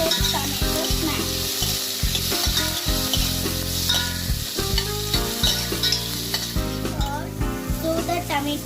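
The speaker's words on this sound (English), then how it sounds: "We have to add tomatoes in it and mix it with tomato smash." Tomatoes with coconut paste for a dhaba-style egg curry sizzle loudly in a pan, with continuous frying hiss and stirring clatter; strong steady tonal music plays over the cooking throughout.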